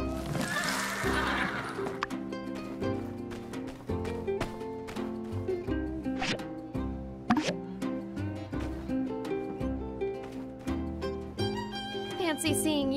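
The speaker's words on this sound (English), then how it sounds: "Come here, horsey. We're gonna try to utilize you." A horse in the video game My Time at Sandrock whinnies loudly at the start, followed by steady clip-clopping hooves under game music throughout.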